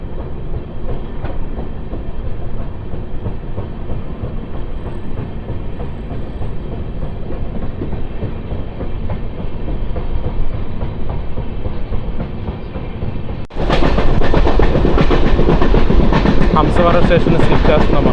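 The Janmabhoomi Superfast Express runs on rails between Lingampalli and Visakhapatnam, giving a steady rumbling clatter of wheels heard from inside. Partway through, the sound turns suddenly louder and brighter, as if a door or window has opened, and a voice speaks.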